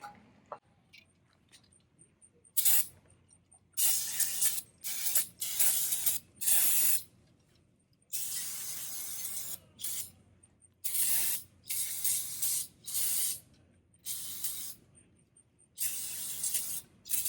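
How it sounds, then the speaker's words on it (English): Brake cleaner sprays onto a kart axle in many sharp hissing bursts of varying length, separated by near silence, loud and close. "for cleaning this axle, I just use regular old cheap brake cleaner and a rag."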